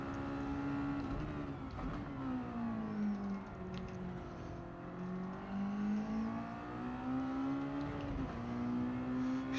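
A racing video game's race car engine hums steadily, its pitch climbing and dropping as it revs up and shifts gears several times, a smooth continuous whine with no voices.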